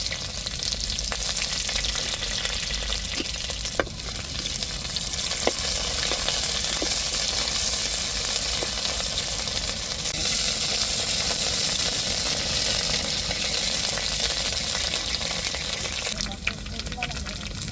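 Onions fry in oil in a pan for a fish curry, giving a continuous loud sizzle and hiss with a few faint stirring clicks scattered through.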